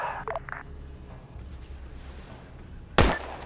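A single sharp mortar blast booms out in a military video game, loud and sudden near the end after a quiet stretch with a few faint radio clicks and chirps.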